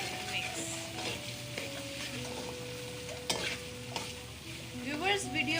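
Chana pulao masala with crushed chillies is stirred in a pan, a close sizzle with scraping spoon strokes and a few sharp knocks against the pan, while faint tonal background sound hums underneath.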